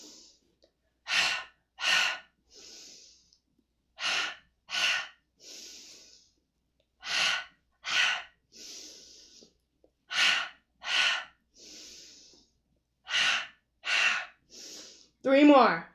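Rhythmic exercise breathing during leg kicks: paired sharp exhales alternate with a softer inhale, repeated in even cycles, close and clear.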